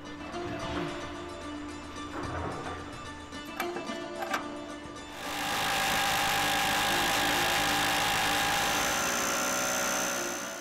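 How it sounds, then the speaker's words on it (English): Air chisel hammering at a seized, corroded pin on an M48 AVLB armored vehicle launched bridge: irregular bursts and clanks at first, then a loud, sustained buzzing chatter of the pneumatic tool close by. "The air chisels aren't getting us where we need to be."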